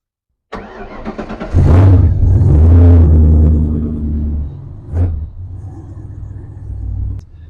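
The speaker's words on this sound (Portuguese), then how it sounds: "E me diz uma coisa, Álvaro, esse motor funciona?" A Ford Maverick engine cranks and starts, then revs hard with a loud, deep roar before settling to a lumpy idle with another quick blip, close up and without talk.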